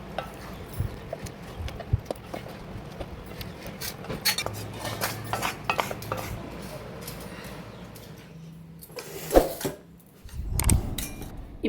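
Cooked pirandai chutney ingredients go into a mixer jar with scattered clinks and taps of a spoon against metal and soft scraping, moderately close, under a voice talking in Tamil.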